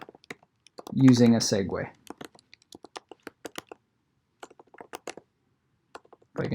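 Fast clicks of typing on a computer keyboard, scattered bursts of sharp key taps with short gaps between them, close and clear, broken by a brief stretch of someone talking.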